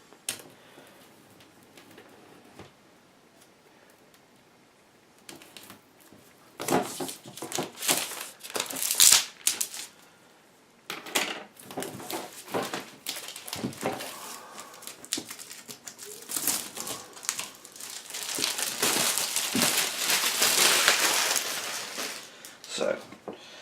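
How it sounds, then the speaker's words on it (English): Craft knife slicing cellophane wrap on a boxed game, with soft crinkles and scattered crackling bursts of plastic film being cut and peeled, faint at first and then growing busier and louder, with little or no talk over it. "let's use a craft knife and very delicately slice the cellophane"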